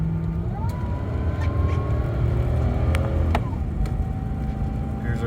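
A 2007 Lexus LX470 SUV drives up a highway on-ramp, with a steady engine and road drone from inside the cabin and a few faint tones shifting in pitch.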